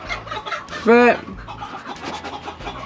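Chickens on a farm, a rooster or hen giving one loud, close cluck or squawk midway, with softer clucking around it while someone talks throughout.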